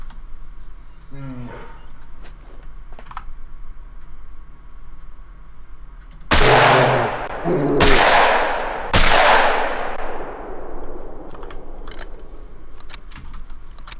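Three loud, sharp rifle shots in theHunter: Call of the Wild while hunting a lynx, each cracking sharply and then ringing out in a long fading tail, fired in quick succession after a quiet stretch.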